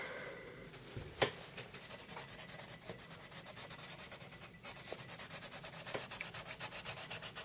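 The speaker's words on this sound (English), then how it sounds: "sharpening my pencil" A coloured pencil being sharpened at a desk: steady, rhythmic scratchy rasping strokes of wood and lead against the blade, close and continuous, with a few sharper ticks near the start.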